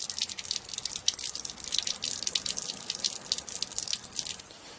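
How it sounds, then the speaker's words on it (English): Water drains from a camper trailer's tank, a steady close trickle and splatter of dripping water that runs on continuously before easing slightly at the end. "Getting the last vestiges of water out of the tank."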